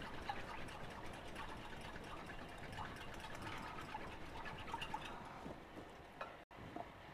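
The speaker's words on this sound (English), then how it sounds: "and we'll whisk it well." Yogurt is whisked with water in a bowl, a faint, rapid run of soft scraping and sloshing strokes that continues steadily, with a brief pause near the end.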